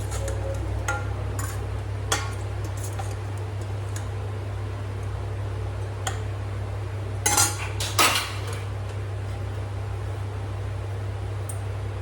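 Lati (taro stolon) curry is served from a cooking pot, with scattered metallic scrapes and clinks of a spoon against the pot, including a louder cluster near the end, over a steady low hum.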